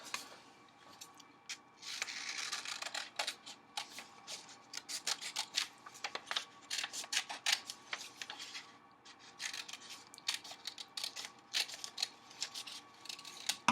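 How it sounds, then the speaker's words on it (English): Scissors cut through colored paper in a quick run of close, sharp snips that come in bursts with short pauses, no talking. "Then I'm going to cut it out."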